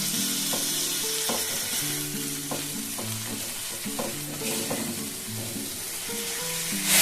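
Spice masala with green peas sizzles and is stirred in a pan, a steady frying hiss with soft scraping strokes of the spatula; faint background tones run underneath.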